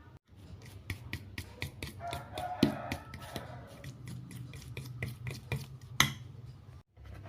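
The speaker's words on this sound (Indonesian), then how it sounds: "margarin kita lembutkan dengan menggunakan sendok garpu" Fork working softened margarine in a bowl, a close, quiet series of rapid rhythmic taps and scrapes against the bowl with a few louder clinks.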